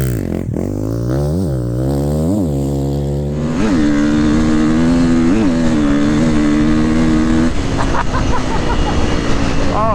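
A KTM 350XCF dirt bike is ridden hard at full throttle, its engine climbing through repeated sharp rev surges and gear changes into a high, sustained howl, loud and close to the rider.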